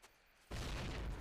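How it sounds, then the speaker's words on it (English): Grenade explosion in the 2003 Call of Duty video game, a sudden loud boom that hits after a quiet moment and keeps roaring with dense rumbling debris noise to the end. "that was a textbook good grenade"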